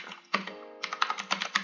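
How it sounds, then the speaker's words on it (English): Quick bursts of typing on a computer keyboard, a single key click followed by a short pause and then a rapid run of crisp clacks, close and clear. "If I type something"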